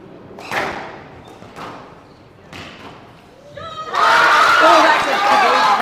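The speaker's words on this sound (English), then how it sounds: "Listen to that crowd." Spectators at a glass-court squash semi-final of a junior team championship burst into loud, sustained cheering and applause after a few scattered thuds of play, with a commentator's voice heard earlier.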